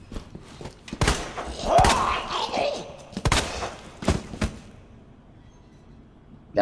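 Gunshots in the video game Resident Evil 2 Remake, several sharp loud shots fired at irregular intervals with a creature's groan and thuds between them.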